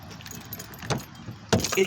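Keys jangle while a car is unlocked with its remote key fob in the rain. The rattle runs under soft steady background noise, and one louder, sharper burst near the end may be the lock releasing.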